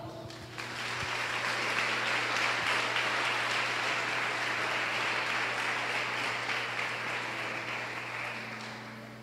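A congregation applauds during a Sunday Christian church service, the clapping swelling quickly and sustaining as a dense, even wash over a low steady hum, fading slightly toward the end.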